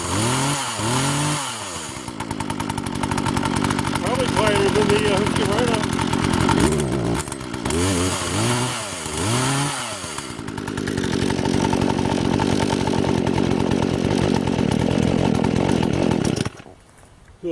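An 18-inch Poulan Pro PP4218A chainsaw runs loud and close, revving up and down in repeated bursts with steady high-pitched cutting stretches between, then cuts off near the end.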